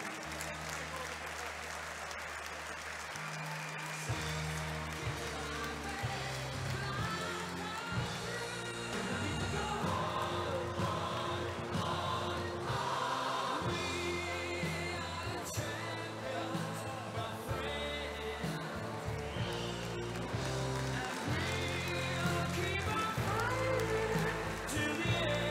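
Sustained applause at a swimming medal podium ceremony for athletes in the women's 200 m butterfly, steady and fairly loud for the whole stretch, mixed with music playing underneath.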